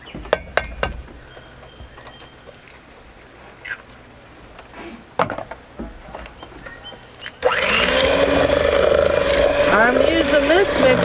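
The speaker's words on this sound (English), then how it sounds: "I'm using this mixer because our other mixer is not charged" An electric hand mixer creams apple sauce cake batter made with Crisco and one large egg on a front porch; clinks and talk come first, then a loud, steady whirring starts partway through and runs to the end.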